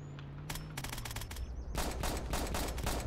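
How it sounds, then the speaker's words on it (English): Rapid bursts of gunfire from a hostile force crackle in clusters, loud and close, with a low rumble beneath and sustained volleys after a brief lull. "They're shooting at us."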